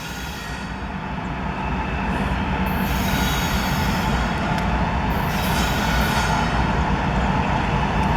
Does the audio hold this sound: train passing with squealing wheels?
yes